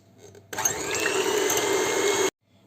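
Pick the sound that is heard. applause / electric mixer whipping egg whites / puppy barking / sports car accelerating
electric mixer whipping egg whites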